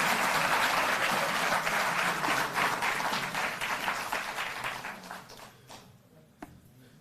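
An audience applauds at a Delhi Jal Board workers' event, dense clapping that gradually thins and fades out, leaving a few scattered claps near the end.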